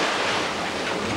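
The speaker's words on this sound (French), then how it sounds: "c'est le coup de vent, donc le bateau gîte un peu" A strong gale and crashing waves sweep across a narrow racing sailboat at sea, making a loud, dense, unbroken roar of wind and spray.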